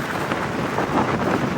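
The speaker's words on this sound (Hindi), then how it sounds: "क्या हवा चल रही है" Steady wind rushing across a mountainside near Rohru, a broad, even roar of moving air with gusts swelling slightly, close and continuous, with no voices.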